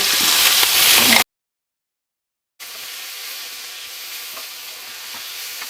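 Dried chillies and spices fry in a pan with a loud, steady broadband sizzle, broken by a full silent gap, then resuming as a softer continuous hiss with faint crackles.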